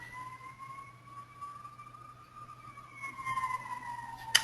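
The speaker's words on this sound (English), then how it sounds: "Sorry about the ambulance" An ambulance siren wails steadily outside a classroom, faint and distant, slowly rising and falling in pitch as it passes.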